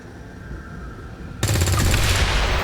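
Rapid automatic gunfire from squad weapons shooting an alien relay in the XCOM 2 video game, a dense loud burst starting abruptly midway after a quieter stretch of background ambience.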